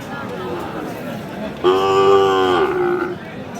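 A Sahiwal bull calf lets out a long, loud moo over the steady murmur of a crowded cattle market in Dinajpur, Bangladesh, with people chattering in the background.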